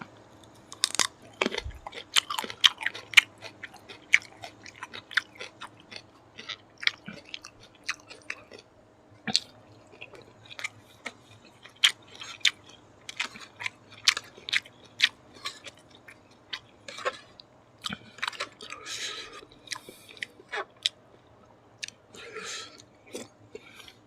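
Close, wet chewing and crunching of spicy Thai offal soup eaten with hot sticky rice, irregular bites and smacks repeating throughout at a soft level, with no talking.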